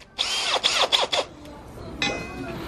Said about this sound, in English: this drill is super inconsistent.